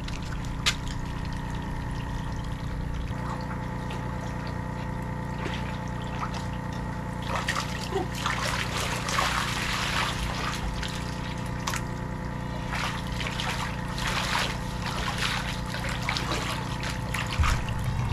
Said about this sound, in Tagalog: Tapos pinagpapump ko dito sa fish pond.